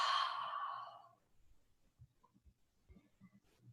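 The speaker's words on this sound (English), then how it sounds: "loud exhale through the mouth." One loud, breathy exhale through the mouth during gentle restorative yoga breathing lasts about a second and fades, followed by quiet soft rustling.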